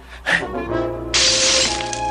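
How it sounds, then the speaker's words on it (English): Glass shattering in a Pac-Man cartoon: a short thump, then a bright, loud crash of breaking glass that rings out and tinkles away over about a second. "we just hear like a glass breaking sound"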